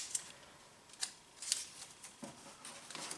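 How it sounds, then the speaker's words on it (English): Masking tape pulled and pressed onto a light on a 1961 Cushman Truckster golf cart, giving a few short, crisp tearing and crinkling bursts spaced irregularly, close and fairly quiet. "I'm going to just tape up this light"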